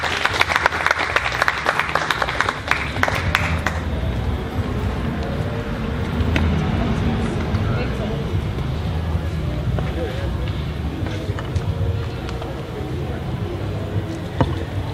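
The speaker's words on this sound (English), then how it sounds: "Give her a round of applause." Audience applause for a speaker at a Universal Negro Improvement Association event, dense clapping that starts close and loud, then thins into a softer, rumbling crowd murmur with scattered claps.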